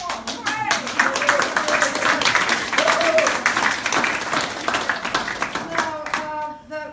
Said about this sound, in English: give yourselves a clap for what you all do